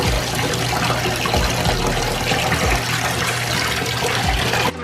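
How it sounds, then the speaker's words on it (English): Water runs loudly and steadily from a bath faucet over a LUSH bubble bar, a constant gushing splash filling the tub with no pauses. "this bubble bar, which I'm just gonna run under the faucet"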